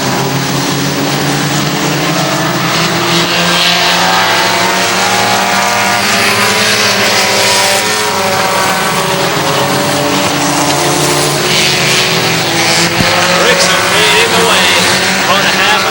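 Race cars roar around the oval at Hudson Speedway in New Hampshire, a dense, steady drone of several engines at full throttle that swells and fades as they pass, with a voice faintly audible beneath.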